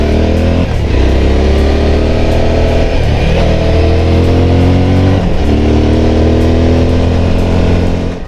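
A Suzuki V-Strom 1050 DE engine with an Akrapovič exhaust roars close by with a deep, throaty note, revving up through the gears in several rising pulls with brief dips between.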